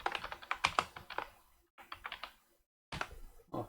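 Bursts of rapid key clicks on a computer keyboard, close and clear, come in three clusters with short silent gaps between them, as a name is typed into a settings field while installing Kali Linux in VirtualBox.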